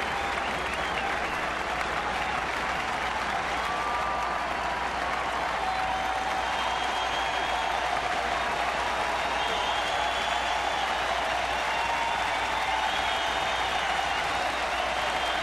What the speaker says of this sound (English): the fans cheering on a strikeout